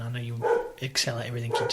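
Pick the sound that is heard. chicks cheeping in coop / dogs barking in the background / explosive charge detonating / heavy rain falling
dogs barking in the background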